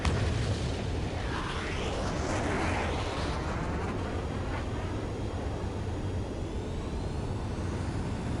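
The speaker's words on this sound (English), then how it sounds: "Launching missile." Missile launch and blast in a flight combat video game, a loud continuous roaring rush that swells through the first seconds and then settles into a steady heavy rumble, with no voices over it.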